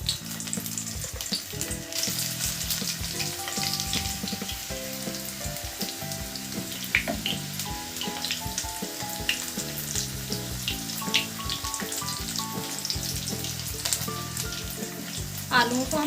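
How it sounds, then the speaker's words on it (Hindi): Potatoes for dum aloo frying in hot oil, a steady sizzle with occasional stirring clinks, layered with background music. "अब हम इसमें एक एक करके आलू डाल देंगे। आलू को हम फ्राई करेंगे।"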